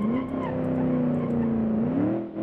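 A Mohawk 320 V8 Sport car drives in the BeamNG.drive video game, its engine holding a steady, loud drone that rises in pitch near the end.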